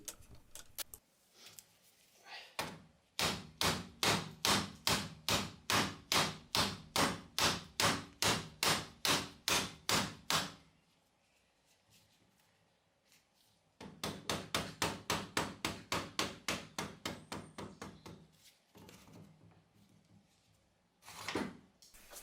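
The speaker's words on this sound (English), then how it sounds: "the designer of the gun didn't really account for the use of a 2-pound hammer" A 2-pound hammer strikes metal parts of a WW2 Thompson submachine gun in two long runs of sharp, evenly paced blows, loud and close, separated by a quiet pause.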